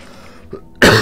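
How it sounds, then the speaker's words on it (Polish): A single short, sharp cough bursts out loud and close after a near-quiet moment, preceded by a faint throat sound. "Kaszel na propsie."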